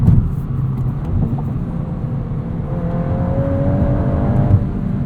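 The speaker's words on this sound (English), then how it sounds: "Fun rev limiter too." A 2022 Volkswagen Golf R with a six-speed manual, in drift mode, holds a loud, steady engine drone with a rising whine, sustained near the rev limiter.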